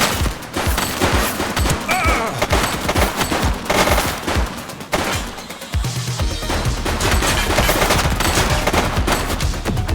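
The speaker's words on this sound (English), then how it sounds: "Shots fired!" Gunfire crackles through a shoot-out in the video game The Precinct: dense, rapid bursts of shots and automatic fire, loud and nearly continuous, with a brief lull midway before the volleys resume.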